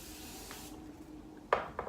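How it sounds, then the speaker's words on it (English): A short, airy hiss of makeup setting spray misted onto a face, lasting under a second, followed by quiet and a couple of faint taps. "We just need to spray our face with the setting spray."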